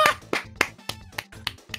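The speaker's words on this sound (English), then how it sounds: "That just deserves a clap." A string of about eight hand claps lands in a quick, slightly uneven rhythm, close and fairly soft, with a faint tonal hum underneath and no talking.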